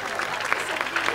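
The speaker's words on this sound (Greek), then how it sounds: "Ένα μεγάλο χειροκρότημα και στα μοντέλα μας και στους χορευτές μας" Audience applause at a beauty pageant in a club, a brief patter of clapping heard under a presenter's voice, moderately loud and continuous.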